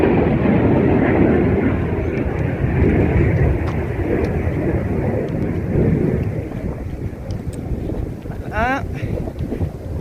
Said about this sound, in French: Alors, il y a un avion.